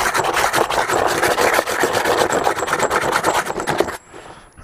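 Close, loud scuffing of a Kawasaki Z750 motorcycle part ahead of a satin black paint job, dense rapid rasping strokes running steadily for about four seconds, then stopping abruptly into near quiet.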